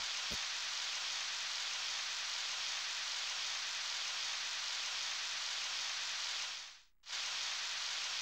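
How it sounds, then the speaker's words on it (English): Steady rain ambience from the video game Harvest Moon 64, a dense even hiss that runs throughout and drops out briefly near the end before resuming. "When the audio of the rain skips for a second, that's the changeover."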